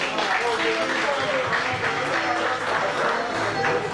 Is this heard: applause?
yes